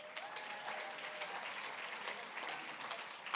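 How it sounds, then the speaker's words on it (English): Gala audience applause at a Switzerland-themed charity night, a dense, even wash of many hands clapping at moderate distance, steady throughout with no voices. "please give them a round of applause"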